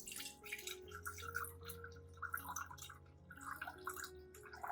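Coffee-soaked liquid trickles and drips as the grounds are strained out of it, a soft, steady patter of small drips over a quiet tonal background.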